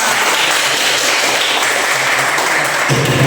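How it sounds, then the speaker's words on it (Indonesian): A class of students in a teaching-practice session breaks into applause, a dense wash of clapping that stays loud and steady throughout, with a brief low thump near the end and no talk over it. "Tepuk tangan untuk kita semua."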